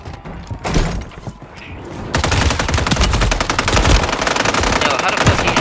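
Gunfire in the battle royale shooter Warzone, scattered shots followed by sustained rapid automatic bursts, loud and close.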